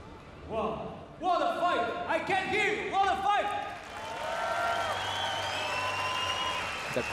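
A crowd applauds and cheers at the Senshi 11 kickboxing event, a broad sustained roar rising as a voice talks over the first few seconds.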